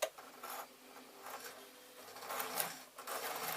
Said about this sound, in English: I'm literally going to sew the fold over